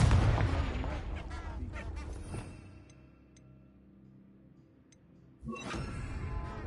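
The Confringo spell in the Hogwarts Legacy video game: a loud burst at the start fading into a decaying rumble, a quiet lull with faint ticks, then another sudden blast near the end.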